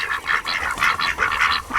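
Khaki Campbell and Pekin ducks quack inside a chicken coop, a rapid run of loud, regular nasal calls pulsing several times a second, close by.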